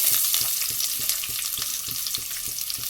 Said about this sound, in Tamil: ஆனியன் போடுறேன்.